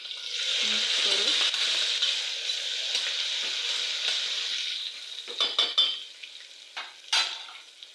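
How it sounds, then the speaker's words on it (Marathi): Chopped tomato and asafoetida sizzle in a hot pan, a steady bright hiss for several seconds, then a spoon stirs and scrapes the pan in a few distinct knocks as the frying quiets. "मिक्स करू।"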